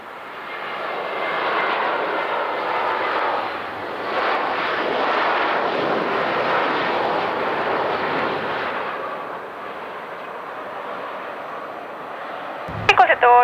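A fixed-wing airliner lands at night at La Aurora airport in Guatemala, its engines roaring steadily for about ten seconds before easing off, with a brief sharp click near the end.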